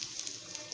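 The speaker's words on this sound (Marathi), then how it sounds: "कसे जिरे तडतडत आहेत" Cumin seeds crackle in hot oil in a pan while papad chutney is cooked, giving a steady close hiss with a few sharper pops across the short stretch.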